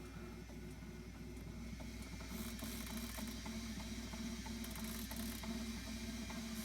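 An M3D 3D printer running inside a closed acrylic box gives a steady, muffled mechanical whir with soft repeated ticking and ratcheting of its moving parts, fairly quiet and continuous with no talk.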